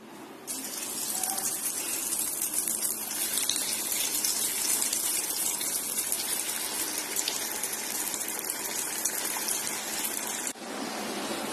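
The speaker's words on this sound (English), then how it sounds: "and now we will fry them" Sesame-coated paneer slices frying in hot oil give a loud, steady, dense sizzle that holds unbroken for about ten seconds before dropping off abruptly near the end.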